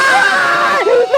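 Loud, shrill screaming erupts in a brief burst from people in a comedy scene set in a supposedly haunted new house, high and strained, close and piercing, over about a second.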